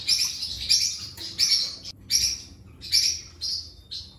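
A purple-looking bird in a coop chirps in a run of bright, close tweets repeating roughly every half second, loud and clear with faint background noise and no talking.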